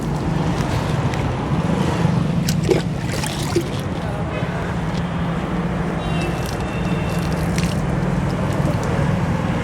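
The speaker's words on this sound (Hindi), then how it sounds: "इसमें पानी डाल देना है" Water poured onto the base of a freshly planted banana plant gives a steady, close rush and splash that runs without a break and keeps an even loudness throughout.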